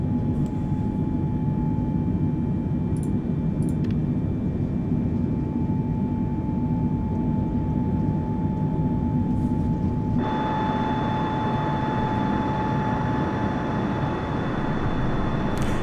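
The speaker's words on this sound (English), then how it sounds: "So I'm going to give this a what for type takeoff." An E-3 Sentry AWACS jet in RAF livery powering up for takeoff in Microsoft Flight Simulator, a steady loud engine roar with a whining tone that grows brighter partway through as thrust increases.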